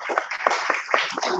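Brief scattered clapping breaks out from an audience at a community board meeting, a short patter of hands with a few voices.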